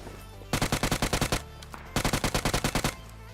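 Shotgun gunfire in a video game, two loud, rapid bursts of evenly spaced shots, each about a second long, separated by a short pause, with no talk.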